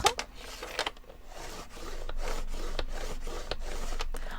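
Card paper being scored and creased into folds at 6 cm intervals for a pop-up panda card, close dry rubbing strokes repeated in a steady rhythm with brief crisp taps.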